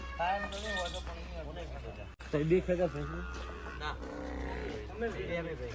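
Kankrej cow in Banaskantha mooing with low, drawn-out calls close by, heard alongside people talking nearby.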